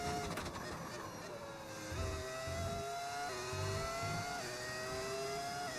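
An F1 car engine in F1 25 screams as it accelerates, its whine climbing in pitch through several quick gear shifts, each upshift dropping the tone before it rises again.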